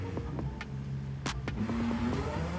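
An Aston Martin DBX with a 3-litre engine launches in the video game Forza Horizon 5, its engine note rising steadily under short clicks and rising whines, heard from inside the cabin, continuous and moderately loud.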